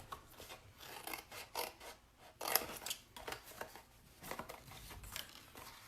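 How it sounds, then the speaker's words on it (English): Scissors cut through a piece of paper card, a faint series of short rasping snips and scrapes close by, with handling noise between them. "then you're gonna cut this entire piece off"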